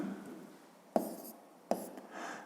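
Numbers being written by hand, a faint scratching of pen on paper with two small taps as the pen touches down, quiet and close, with no speech.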